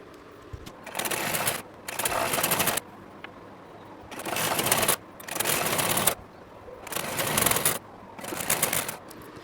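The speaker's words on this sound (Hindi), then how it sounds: "तो चलिए फ़िलहाल दोनों किनारों की तरफ इधर और इधर साइड भी सिलाई लगा लेते हैं।" A sewing machine stitches the side seams of a pair of trousers in about six short runs, each roughly a second long and separated by brief pauses. The whirring is close and clear, with no talking.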